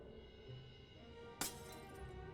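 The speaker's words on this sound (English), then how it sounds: "It shatters into pieces against the wall." A single sharp glass bottle shatter against a wall in the video game Ghost of a Tale cuts through a low, murky background hum, brief and bright, then the quiet drone carries on.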